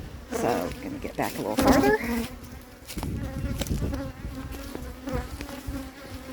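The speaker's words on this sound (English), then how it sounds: "The angry pitch of the bees' buzz" Robber bees swarm and buzz around a beehive in spring, a dense, steady insect drone close to the microphone, with someone speaking over it.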